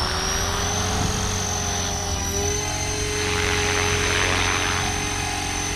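Radio-controlled model helicopter in flight, a steady close whine with a high tonal rotor and motor pitch holding constant throughout, no voices.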